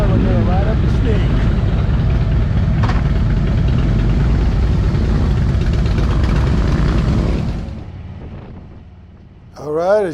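A motorcycle riding up a winding road called the Snake, its loud engine roaring steadily with gear changes before fading away, followed by a short rising whine at the end.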